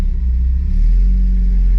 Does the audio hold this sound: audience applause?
no